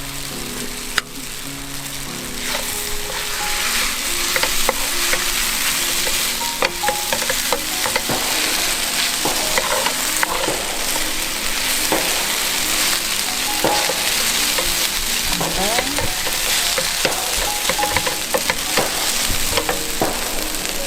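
Vegetables for Korean japchae stir-fry in hot oil, giving a steady loud sizzle with scraping and tossing clatter throughout, no voices.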